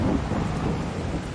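Rain and rolling thunder from the Farming Simulator 22 game on a Green Hills farm map, a steady loud storm rumble with rain filling the whole moment, no talking.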